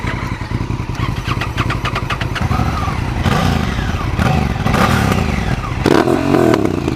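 A Honda CRF1000L Africa Twin motorcycle fitted with a non-stock exhaust cranks and fires up close by, then settles into a loud lumpy idle broken by several sharp throttle blips and revs, with no talking over it.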